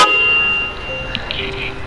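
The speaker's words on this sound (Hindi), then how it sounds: "आदि जाओ गाड़ी में और हॉर्न बजाओ," A newly installed car horn on a Renault Triber blares steadily and close for under a second, then short toots follow against a low rumble of background noise.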